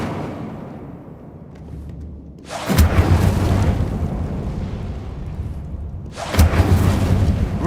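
Incendio fire spell cast in Hogwarts Legacy: two loud whooshing bursts of flame, each erupting sharply and then roaring on as a sustained crackling blaze, the second igniting a few seconds after the first.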